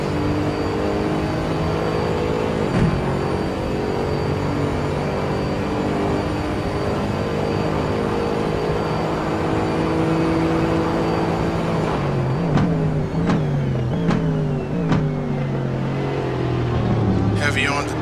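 A race car engine in Gran Turismo at Hockenheim drones at steady pitch, then drops sharply through several quick downshifts, each followed by a rising rev as the car keeps pace in a close battle.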